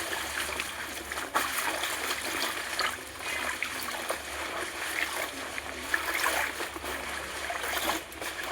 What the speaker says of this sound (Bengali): তার জন্য আমি ভালো করে কচুর পাতাগুলো ধুয়ে নিচ্ছি।